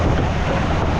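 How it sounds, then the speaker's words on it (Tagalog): Large ocean waves slap and surge against a boat at sea, a steady loud wash of water mixed with wind buffeting the microphone throughout, with no voices. "Kasi malalaki na yung mga alon mga kabisig."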